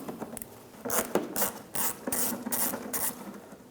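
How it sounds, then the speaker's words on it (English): A Phillips head screw is turned out of a 1997-2001 Honda CR-V headlight, giving a close series of rhythmic ratcheting, scraping rasps in short bursts. "Use a Phillips head screwdriver."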